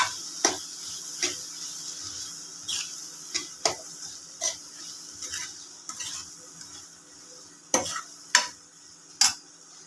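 Paneer bhurji with red chilli stirred in a pan, sharp spoon scrapes and clicks recurring irregularly over a faint low sizzle, close and alone with no speech.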